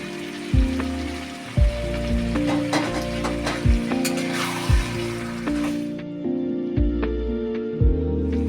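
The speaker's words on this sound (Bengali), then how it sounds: "এবার ভেজে রাখা আলুটা দিয়ে দেবো" Pre-fried potatoes go into a sizzling meat curry in a pan, a steady crackling fry punctuated by several sharp knocks and clanks of a spoon or lid, close and alone without talk.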